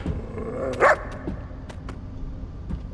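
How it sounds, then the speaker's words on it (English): A dog in the video game The First Descendant gives a single close bark amid game ambience, followed by faint clicks and low background sounds. "It's just an ordinary dog."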